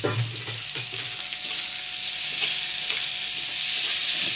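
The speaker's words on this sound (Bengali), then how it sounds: "টমেটো কুচিটা দিয়ে দিলাম" Chopped tomatoes dropped into hot oil in a pan, giving a steady close sizzle and crackle that continues throughout with a few light stirring sounds.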